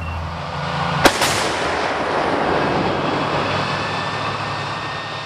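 An M109 Paladin self-propelled howitzer fires a single loud, sharp blast at a live-fire drill at Fort Indiantown Gap, Pennsylvania, with a quick echo just after and a long rumbling roll that fills the rest of the clip.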